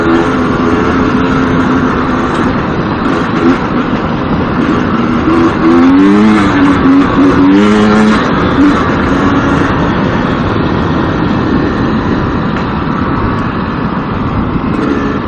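A GasGas EC300 two-stroke dirt bike ridden near Yerington, its engine loud and close with continuous buzzing drone and rising, falling revs through the power band, plus wind noise, no talking.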